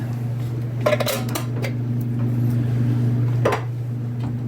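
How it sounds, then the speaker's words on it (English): Canned tomatoes go into a pot of chili beans, with a few clanks of metal on the pot and a brief pour, close by, over a steady low hum from a fan or range hood. "We can go ahead and add our other can of tomatoes."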